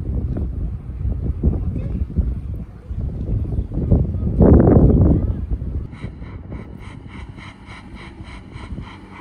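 Wind buffets the microphone in the open nemophila flower field of Hitachi Seaside Park, a loud, low rumbling roar that swells into a stronger gust midway before easing, with a faint pulsing tone near the end.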